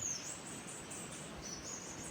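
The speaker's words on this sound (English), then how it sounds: "Listen to these beautiful birds chirping behind you." Faint high bird chirps repeating outdoors by the Indian Ocean in the Seychelles, thin calls over a soft, steady ambient hiss.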